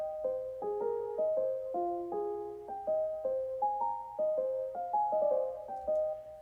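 Synth melody playing alone in Logic Pro X, a sequence of distinct sustained notes stepping up and down in a steady rhythm, clear and even in level with no voices.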